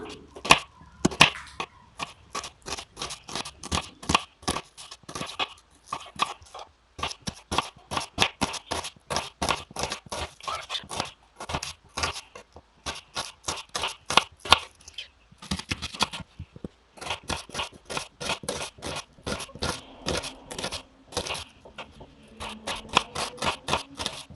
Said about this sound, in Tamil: 2 பெரிய ஆனியனை நீள நீளமாக கட் பண்ணி வச்சுக்கலாம்